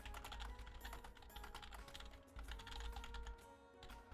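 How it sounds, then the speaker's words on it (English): Rapid, steady typing on a computer keyboard, faint and close, with dense irregular key clicks continuing for several seconds and no speech over them. "I was typing something."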